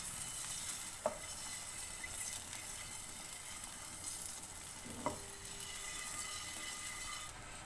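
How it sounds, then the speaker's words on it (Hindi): Eggs fry in oil in a pan over medium flame, a soft continuous sizzle with two light knocks of a spatula against the pan, fairly quiet and without talk. "अंडों को थोड़ा सा फ्राई कर अच्छा सा कलर आ जाएगा इस पर"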